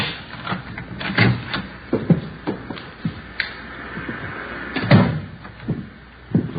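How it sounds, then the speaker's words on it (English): A key turning in a front door lock, followed by the door being opened: a series of close metallic clicks, rattles and knocks spread irregularly over several seconds, with no talking. "There's the front door key. See if you can work it."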